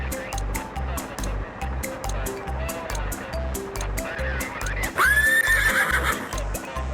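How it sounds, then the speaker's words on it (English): A horse on a beach whinnies loudly nearby over steady rhythmic thumping and a rushing, surf-like background. "But this horse does not relinquish the reins to Police Officer Will"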